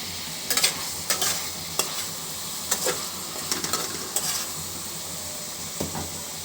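Tomatoes fry in a pan over a village kitchen fire. A soft continuous sizzle runs underneath while a spoon scrapes and stirs in quick, irregular strokes. Fairly quiet and close, with no talking.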